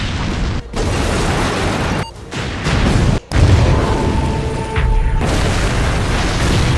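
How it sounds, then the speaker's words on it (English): A large explosion ends a scene in the video game Resident Evil Village: dense booming rumble with bursts cut by sudden brief silences, heavy low roar rolling on throughout, loud and close. "the game ends with an explosion"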